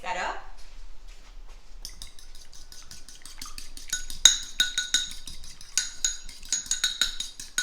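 Fork or whisk clinking steadily against a bowl while an egg and a little milk are beaten together for an egg wash, a run of quick bright taps building in rhythm, with speech at the start.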